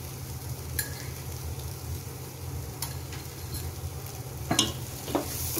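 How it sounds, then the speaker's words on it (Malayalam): Turmeric, chilli and coriander powders stirred and frying in a pan for Kerala beef varattiyathu, a steady close sizzle with occasional scraping clicks of the spoon against the pan. "എന്നിവ ചേർത്ത് പച്ചമണം മാറുന്ന വരെ നന്നായി ഇളക്കി കൊടുക്കാം"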